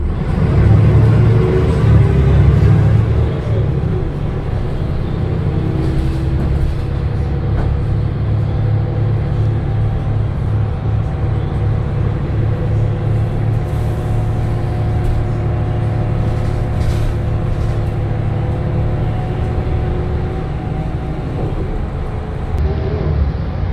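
Newcastle Transport Volvo B10BLE bus, fleet number 3880, heard from inside while driving: a loud, steady engine drone and rumble with road noise and shifting tones, continuous from start to finish.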